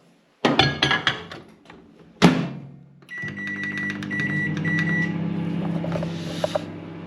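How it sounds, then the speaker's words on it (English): A microwave oven hums steadily after a door thud and a few clinks, with faint beeps near the end. "Whack it in the microwave"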